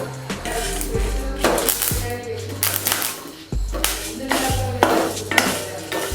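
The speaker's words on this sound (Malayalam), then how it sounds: "ഇതെല്ലാം ഒന്ന് ചൂടാക്കി എടുക്കേണ്ടതുണ്ട്" Whole biryani spices being heated and stirred in a metal pan, repeated scraping and clattering strokes with light rattling, close and fairly loud, with no voices.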